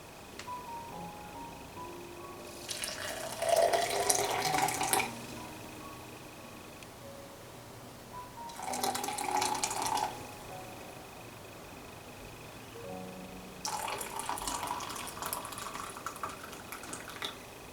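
Water at 80 degrees poured onto Longjing green tea in three separate pours, each a few seconds of hissing, splashing liquid with quiet gaps between.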